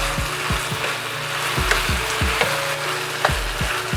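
Tom yum paste and mushrooms sauté in a hot pan, a steady close sizzle broken by repeated soft scraping strokes of a spatula.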